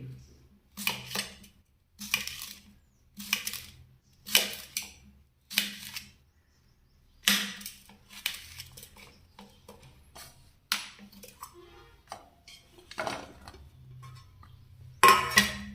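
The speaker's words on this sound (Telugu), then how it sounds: "ఆనియన్, దోసకాయలు కట్ చేసుకుందాం" A kitchen knife slicing onions and cucumbers while biryani is prepared: a series of crisp, separate chops on a board, close and fairly quiet, coming in uneven bursts with short pauses between.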